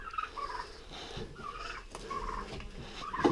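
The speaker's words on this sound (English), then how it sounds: "That's the 4 little turkeys" Four young turkeys give short, high, trilling gobbles, several bursts in quick succession, close up over faint barnyard background.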